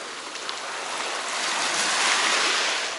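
Ocean waves wash onto the sand at Siesta Key beach in Sarasota, Florida, a steady broad hiss of surf that swells slightly, with light wind and no nearby voices.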